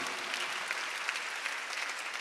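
A church congregation claps through a Sunday sermon, a dense, continuous, even patter of many hands with no pauses, filling the room at moderate loudness.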